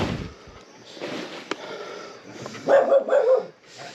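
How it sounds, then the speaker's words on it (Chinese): A dog lets out a few short barks near the end, faint and moderately distant, after quiet background noise. "咦，狗子。"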